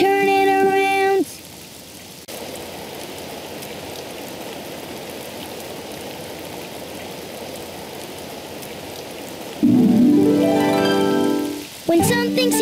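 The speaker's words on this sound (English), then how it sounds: "Oh, it's raining outside." Steady rain falls outside in a cartoon scene, a continuous soft hiss lasting several seconds, framed by brief sung or tonal voices at the start and end.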